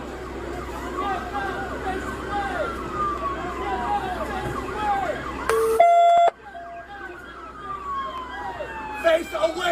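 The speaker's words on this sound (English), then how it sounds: "Cut them sirens." Wailing police sirens sweep up and down under shouted voices, then cut off abruptly, leaving a brief electronic tone and quieter talk.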